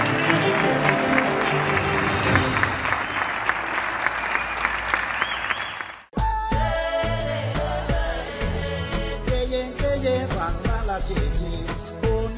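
Applause dedicated to cable workers, a dense crowd clapping for the first half that cuts abruptly into loud music with sharp percussive hits for the remainder.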